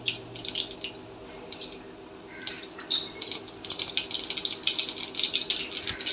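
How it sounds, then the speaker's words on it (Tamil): Mustard seeds hit hot oil in a pan while coconut rice is being made, setting off crackling and sputtering pops that start sparse and grow denser and busier toward the end. "எண்ணெய் காஞ்சது கடுகு,"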